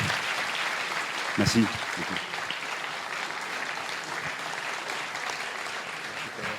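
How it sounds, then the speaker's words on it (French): Audience applause after a master class lecture on rising global inequality, a steady broadband patter across the whole span, with a brief spoken thanks near the start over the clapping. "Je crois qu'il faut l'applaudir chaleureusement"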